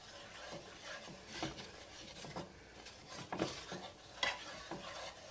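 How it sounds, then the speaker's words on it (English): A utensil scrapes browned bits from the bottom of a pan while cooking shrimp and grits, giving repeated rasping strokes over a soft sizzle. The sound is close but fairly quiet, irregular, and unaccompanied by speech. "let that get all nice and friendly as we kind of scrape up the bits, as they say, on the bottom of the pan"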